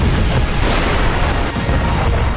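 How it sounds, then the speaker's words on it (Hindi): Russian howitzer artillery fire booms in a loud, continuous barrage of heavy blasts and rumbling, with no pauses and no voices. "रूस की आर्टिलरी यूनिट ने होवित्जर से धावा बोलकर यूक्रेन के टैंक और सैन्य वाहन को खत्म कर दिया"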